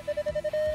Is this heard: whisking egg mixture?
no